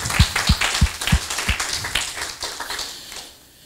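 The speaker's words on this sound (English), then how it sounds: "Let's give them a good hand clap." A church crowd claps, a few sharp strong claps at first blending into a dense patter of applause that fades out after a few seconds.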